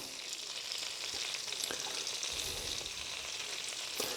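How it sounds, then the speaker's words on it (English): Potatoes for fondant potatoes sizzle steadily in a hot pan as they brown, a dense, even crackle that stays close and loud throughout with no voices. "Now I'm going to put the potatoes in"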